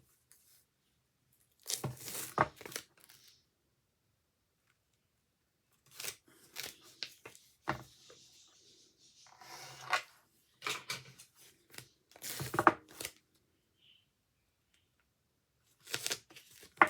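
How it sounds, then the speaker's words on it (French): Double-sided tape crackles and peels in bursts while it is applied to paper for a scrapbook cover, close and crisp, with gaps of near silence between the strips. "on va mettre du double face et on va coller"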